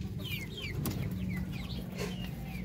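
Darag native chickens clucking at a Philippine poultry farm, several short chirpy calls scattered across a steady low farmyard hum, moderately near.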